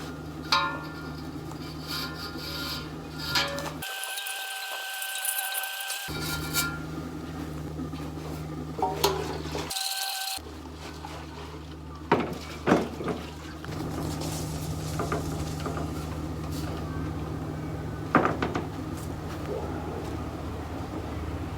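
A beer keg is shaken, scrubbed and rinsed out with water during home brewing, a long stretch of sloshing, rushing water with rubbing and knocking, close and fairly loud, broken by brief silent gaps.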